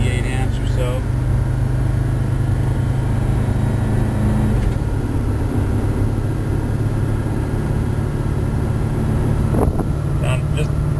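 Ford F350 with a 7.3 diesel engine pulling hard at wide open throttle up a hill, a steady loud low drone running throughout, with a voice talking over it in the cab.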